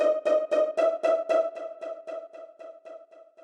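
A string stab synth in an FL Studio beat with delay, playing a rapid, even run of short, bright stabs on one pitch that echo and fade steadily quieter, with no voices.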